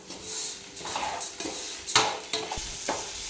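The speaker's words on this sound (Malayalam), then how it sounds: "ഒരു 2 മിനിറ്റ് സമയം ഇളക്കി കൊടുക്കാം." Washed rice is stirred in a pot for kuska rice, with a spoon scraping and clinking against the metal in repeated strokes over a light sizzle.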